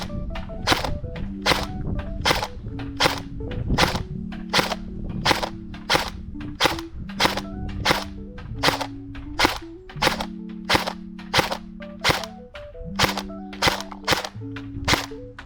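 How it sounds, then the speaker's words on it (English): A Cyma M4 gel blaster fires gel balls outdoors in a steady series of sharp, snappy shots at an even rhythm, each followed by a short mechanical ring, with no talking. "I'd say about every other gel ball hit."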